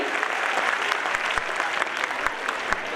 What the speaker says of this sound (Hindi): जरा तालियां जोर से बजाइए